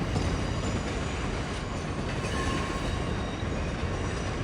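A classic Via Rail passenger train in service since 1955 rolls past at steady, continuous volume, a broad rumble of rail noise with faint squeal and clatter throughout, no voices.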